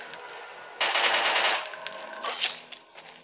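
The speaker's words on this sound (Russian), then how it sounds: "А кто в меня стреляет?" Machine-gun fire from an enemy shooting at the player in a video game, a sudden loud rattling burst after a quiet hum, then scattered shots trailing off.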